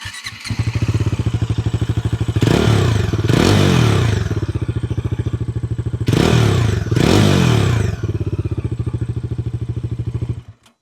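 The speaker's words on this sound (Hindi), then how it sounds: "अगर मैं इसको स्टार्ट करके आपको इसका अगर मैं साउंड सुनाऊं इंजन का" A 2026 Bajaj Dominar 350 motorcycle engine starts and idles with a steady close thumping beat, rising in two pairs of brief throttle blips before settling back and cutting off.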